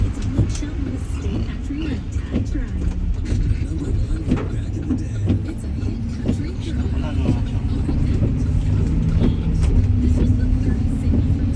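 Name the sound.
U-Haul moving truck driving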